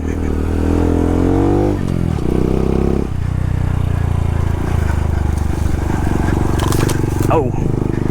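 A trail bike in first gear throttles through soft off-road ground, the engine droning loudly and shifting pitch as revs rise and drop, with a brief sharp whine near the end.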